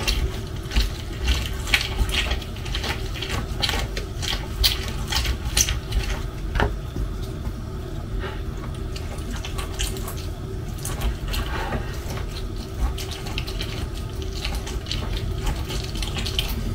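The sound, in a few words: water running from tap while rinsing food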